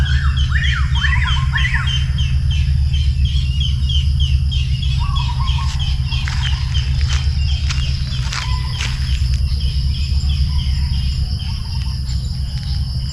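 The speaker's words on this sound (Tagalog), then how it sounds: "pakinggan muna natin ang mga huni ng mga ligaw na ibon sa tuwing umaga" Wild birds sing in the morning in Calape, Bohol, with scattered chirps and short trilling calls over a dense, steady drone of crickets and insects.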